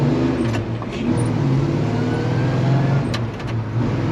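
A bright orange 1965 Chevy C10 pickup with a three-speed manual accelerating, its engine droning loud and steady from inside the cab with a slowly rising pitch and a few faint clicks.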